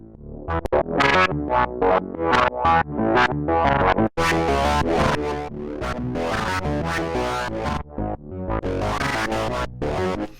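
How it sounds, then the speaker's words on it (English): A synthesizer run through a fuzz effect, producing harsh, distorted tones in choppy bursts and sustained buzzing notes, loud and up close with no voices. "That just sounds like something running through a fuzz effect"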